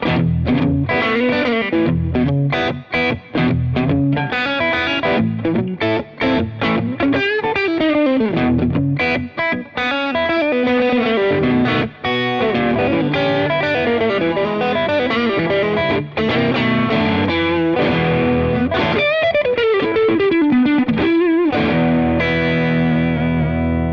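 An electric guitar, a Vola OZ ROA DSE superstrat on its neck single coil pickup, plays a loud, continuous run of distorted, effects-laden notes and chords, alone without talk.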